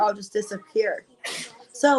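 A single quick sneeze bursts out near the end of a stretch of someone talking, sharp and close, cutting between her spoken phrases.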